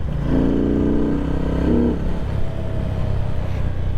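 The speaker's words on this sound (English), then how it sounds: "Engine sounds kind of cool." A Benda motorcycle engine idles with a low, steady rumble, rising briefly into a rev with a droning tone before settling back to a rough idle.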